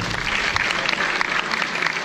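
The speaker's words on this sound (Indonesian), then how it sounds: "Tepuk tangan yang meriah untuk Anda semua." Loud, sustained applause from a large seminar audience, a dense continuous roar of many hands clapping at once, steady and close for the whole stretch.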